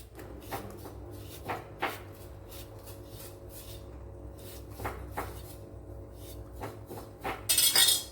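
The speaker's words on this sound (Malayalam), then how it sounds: "കുറച്ച് ചക്ക എടുത്തിട്ടുണ്ട് ഇതുപോലെ കട്ട് ചെയ്തെടുക്കണം" Jackfruit being cut on a kitchen surface, with a run of soft, irregular knife chops and taps plus occasional clinks of utensils, close by and moderately quiet.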